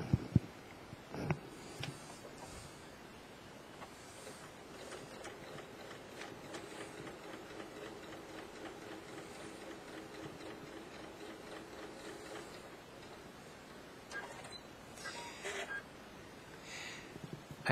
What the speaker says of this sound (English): I'm going to sew down the other edge.